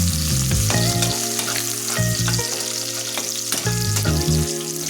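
Onions fry in a wok for a chicken dish, a strong steady sizzle throughout, punctuated by short humming or droning tones and stirring clatter, with no speech.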